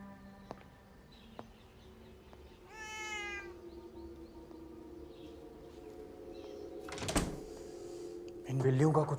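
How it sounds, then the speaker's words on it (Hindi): Cats meow indoors: one clear, drawn-out meow stands out at moderate volume, followed by other scattered sounds and background noise, with people talking. "इन बिल्लियों का कुछ करना पड़ेगा"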